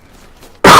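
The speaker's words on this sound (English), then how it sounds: "I was trying not to cough in it." A single loud, harsh cough bursts in after near silence, close to the microphone and sustained to the end.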